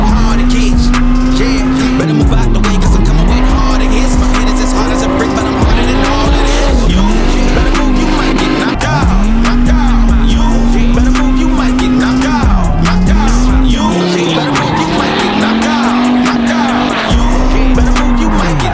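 A drifting car's engine howls steadily near the microphone while its tires squeal through repeated corners, pitch dipping and rising as the revs change through each slide.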